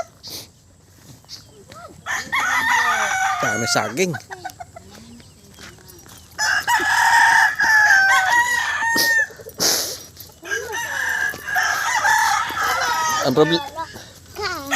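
Roosters crow repeatedly, loud and close, with clucking hens around them while people chat over the birds.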